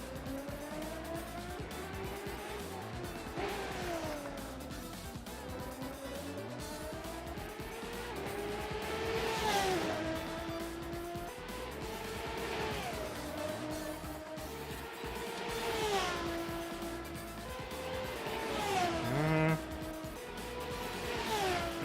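Mazda MX-5 racing at the Barcelona circuit in the Assetto Corsa sim game, engine note repeatedly rising and falling through gear changes, with tire squeal in corners; a voice talks over it at times.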